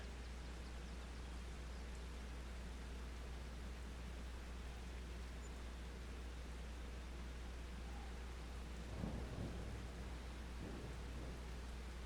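Steady rain in Farming Simulator on the Kinlaig map, a constant hiss throughout with a faint low rumble of thunder near the end; no talking.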